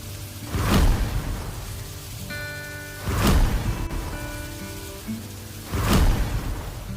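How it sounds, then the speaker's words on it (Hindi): Heavy rain pouring down in three loud rushing waves that swell and fade, with a soft sustained musical tone underneath. "एक बार बारिश बहुत तेज होने लगी।"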